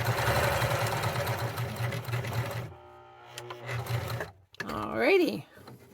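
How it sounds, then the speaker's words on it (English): A sewing machine runs steadily along a fabric headband seam with a fast, even mechanical whir, stops, then gives a shorter burst before a voice speaks over the end. "Sew it off the edge, turn around, and come back on the other side of the center of that seam."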